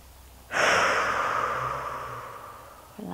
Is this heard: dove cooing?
no